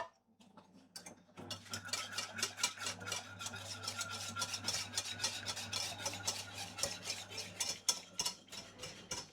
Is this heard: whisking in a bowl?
yes